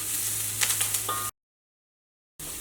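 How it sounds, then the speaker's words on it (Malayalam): Sliced onions sautéing in oil in a pan, a steady close sizzle with a few stirring scrapes, cut off abruptly by a gap of silence before the sizzle resumes. "ഈ സവാള ഒന്ന് വഴന്ന് വരട്ടെ."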